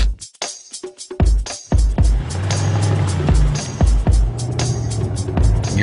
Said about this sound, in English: That's an M Sport exhaust and that's all it's got?